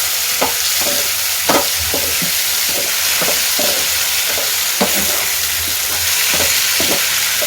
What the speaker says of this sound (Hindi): तो हमें देते हैं फ्राई